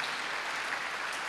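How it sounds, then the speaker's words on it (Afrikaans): A church congregation claps together in a dense, steady round of applause that carries on evenly for the whole stretch, with no voices over it. "kom ons gee net vir die Here en vir almal net 'n hande klap"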